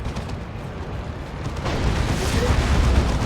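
An Orbital Bombardment in the strategy game Dawn of War 2 sets off a sustained roar of explosions. It starts as a rumble and swells louder about halfway through, with no speech.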